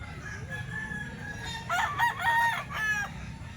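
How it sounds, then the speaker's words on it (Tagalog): A nine-month-old gamefowl rooster crows nearby over a low background hum, with faint clucking from other chickens around it. "Ito mga manok to ni Boss Romney"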